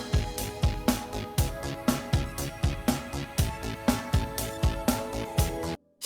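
A drum track played with all processing switched off: a busy, steady beat of dense kick and snare hits with bright cymbals, fairly loud and full, stopping abruptly near the end.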